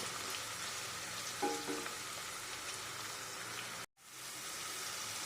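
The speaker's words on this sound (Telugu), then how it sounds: "ఉల్లిపాయలు అన్నవి మంచి రెడ్డిష్ కలర్ వచ్చే వరకు ఫ్రై చేసుకోవాలి" Salted onions fry in a pan for a curry with a soft, continuous crackling hiss. The sound is faint and even and cuts out briefly for a moment before resuming.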